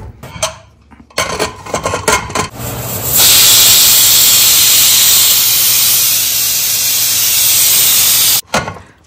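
A pressure cooker vents during the cooking of mutton rezala, building from clattering kitchen sounds into a loud, steady hissing release with a thin whistle that holds for about five seconds before stopping abruptly.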